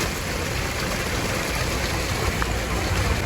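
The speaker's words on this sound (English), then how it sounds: "This is the waterfall coming in from the wetland." Water from a wetland spills over stacked slate and boulders into a backyard recreation pond, making a steady, close, continuous rush with no break.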